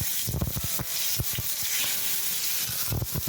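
Tomato and onion puree sizzles in a pan over low gas, a continuous hissing fry broken by scattered sharp pops and crackles, close and moderately loud with no talk.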